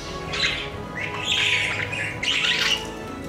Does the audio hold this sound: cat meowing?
no